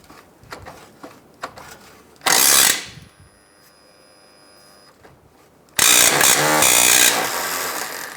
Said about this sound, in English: We're going to see if we can get that bolt out.